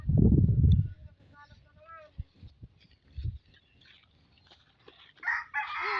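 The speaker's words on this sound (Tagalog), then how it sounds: "Ayan po yung isang manok." A chicken crows loudly at the start, followed by scattered soft clucks and bird chirps, with quieter calls and rustling later on.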